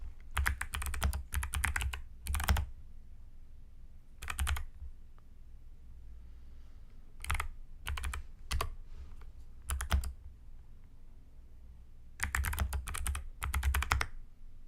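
Computer keyboard typing and clicking comes in several bursts of rapid keystrokes separated by pauses, close and moderately quiet, with no talk over it.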